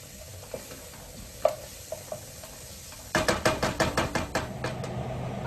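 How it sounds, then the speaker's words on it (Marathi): Chopped onion with turmeric is sautéed in a pan: a few light taps, then a quick run of rhythmic spoon scrapes and stirs over a soft sizzle, close and clear. "थोडा परतून घेते कांदा जरा याच्यावर."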